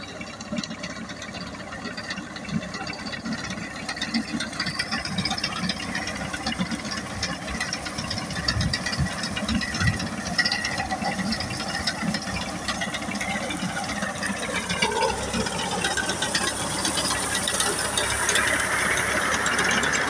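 A harvesting machine cuts wheat in a field, with a continuous mechanical clatter of rattling gears and whirring parts that steadily builds in loudness over a long stretch.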